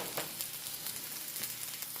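Vegetables sizzling and frying in a hot pan alongside fried tilapia, a steady dense crackle with small stirring bursts, close and alone.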